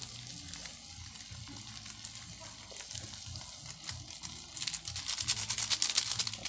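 Ginisa mix sautéing in a pan for adobo sa gata with kabebe, a steady close sizzle and crackle that grows louder and busier toward the end.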